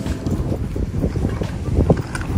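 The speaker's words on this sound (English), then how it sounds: "It's a bit windy, so sorry for the wind." Steady wind buffeting and rumbling across the microphone at a beach park, a loud continuous low roar with gusty swells throughout and no talk.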